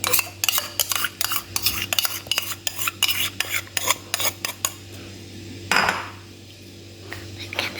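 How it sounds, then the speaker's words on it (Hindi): A utensil scrapes and clinks rapidly against a bowl while sugar and ghee are mixed for a coconut cake, close rhythmic strokes that slow and pause near the end. "ये मैं इसको अच्छे से मिक्स कर रही हूँ।"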